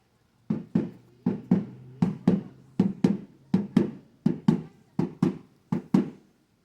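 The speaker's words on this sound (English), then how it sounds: "this is known as our Indian tom-tom" A Cherokee tom-tom hand drum, skins tied on both sides, beats a steady, repeating pattern of paired low thumps, like a heartbeat, played clearly with no voices.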